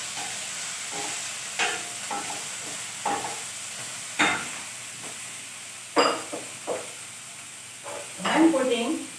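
Grated paneer with bell pepper is stirred in a frying pan. A soft, low sizzle runs underneath while repeated spatula scrapes and strokes come at uneven intervals, ending in a busier flurry of stirring.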